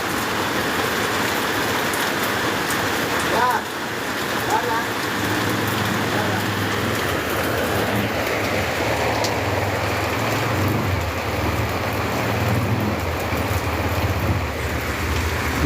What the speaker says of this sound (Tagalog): Sobrang dami ng tubig, hindi na kinaya, nilabas na sa manhole.